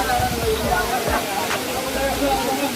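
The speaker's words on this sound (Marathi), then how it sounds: "धबधबा वाहत आहे मस्त एकविराईच्या मंदिराजवळ." A waterfall near the Ekvira temple gives off a steady, broad rushing roar close by, with indistinct voices murmuring over it.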